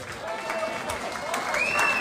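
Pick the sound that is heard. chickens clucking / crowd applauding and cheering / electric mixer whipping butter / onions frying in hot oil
crowd applauding and cheering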